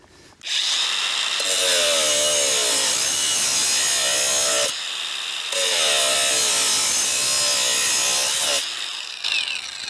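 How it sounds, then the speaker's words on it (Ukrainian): Leader budget angle grinder cutting a 20 mm square steel tube with 1 mm walls, a loud sustained high-pitched grinding whine in two long passes separated by a brief drop in load. "Ну а ми погнали пілять. 20 квадратна труба з товщиною стінки 1 мм."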